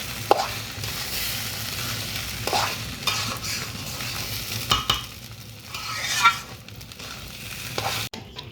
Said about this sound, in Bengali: এখন এই চাল কিছুক্ষণ ভেজে নিয়ে তারপরে গরম পানিতে ছেড়ে দিতে হবে।